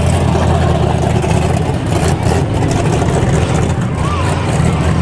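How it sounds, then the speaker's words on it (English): A 1986 IROC Z28 Camaro rolls past in a small-town festival parade. Its V8 rumbles steadily, loud and close, with a slight rise in revs, over constant crowd noise and voices. "Patrick Cundiff comes next in a 1986 IROC Z28 Camaro. Listen to that mill under the hood there."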